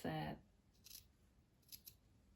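Scissors trimming excess fabric on a sewn pouch snip close by in a few short, crisp cuts after a brief burst of speech at the start, with quiet between snips.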